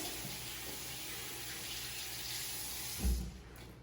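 Water runs steadily from a tap while hands are rinsed at a school sink, a soft continuous hiss with a brief splashing surge near the end.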